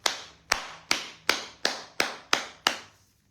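At a political gathering, the audience claps eight times in unison, each sharp, evenly spaced clap ringing briefly in a reverberant hall before the rhythm stops.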